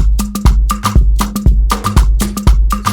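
A popular shaker sample layered into a drum beat for an Afrobeat-style instrumental, its bright hissy shakes riding over kick, bass and tonal hits in a steady repeating groove, loud and close.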